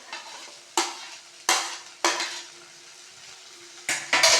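Vegetables and tomato stirred in a frying pan for a thiyal curry, with a spoon scraping the pan in four or five sharp bursts over a soft steady sizzle, close and alone.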